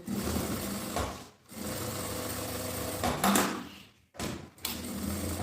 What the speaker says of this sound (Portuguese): aí o restante eu gosto de costurar aqui pelo lado da manta, só fazer beiradinha